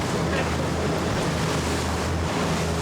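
A boat pitches on rough, wind-whipped waves on Lake St. Clair, with continuous loud wind and water rush and a steady low engine drone throughout.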